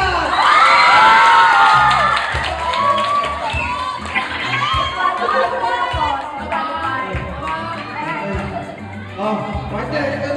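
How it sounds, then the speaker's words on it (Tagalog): A live audience claps, cheers and shouts loudly, an energetic roar with whoops and excited voices that peaks at the start and stays strong throughout. "Partner, narinig mo ba ang palakpakan nila?"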